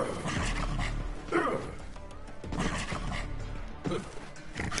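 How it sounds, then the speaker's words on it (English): A dog in the video game Borderlands 3 gives several short barks and yips with whimpers in between, at moderate volume over steady game background. "There's a dog following me."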